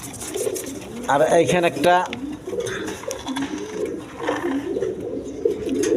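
Rasgolla (Raj Golla) pigeons, including a single male, coo softly in a loft while someone talks steadily over them.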